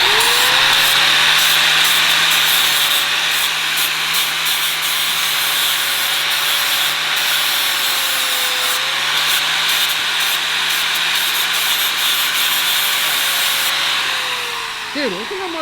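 A power sanding tool grinds steadily to round off the edges of 11 gauge aluminum, loud and close with a continuous whine held for the whole stretch before it winds down at the end.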